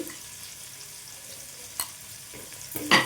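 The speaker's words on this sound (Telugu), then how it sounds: "ఇందులో టేబుల్ స్పూన్ వరకు అల్లం వెల్లుల్లి పేస్ట్ వేసుకున్నామండి చూడండి ఫ్రెష్గా దంచిన అల్లం వెల్లుల్లి పేస్టు" Ginger garlic paste fries in a pan for tomato rice with a soft, steady sizzle. A few brief scrapes and clinks of a spoon stirring are heard near the end.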